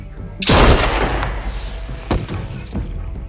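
In The Walking Dead Telltale game, a single loud gunshot booms up close, followed by a long rumbling tail and two softer thuds, with faint voices underneath.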